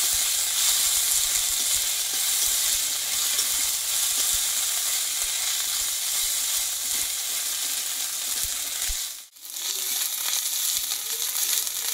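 Green chili and ginger paste with turmeric sautés in hot oil as a dense, continuous sizzling hiss. It is close and steady, with faint stirring scrapes and one brief dip near the end.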